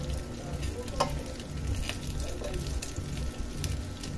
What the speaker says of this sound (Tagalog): haluin lang ng haluin natin guys para mag-mix yung yung oyster sauce